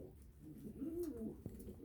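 A dumanlı pigeon gives a single soft rolling coo inside a coop, close and fairly quiet, followed by a small knock.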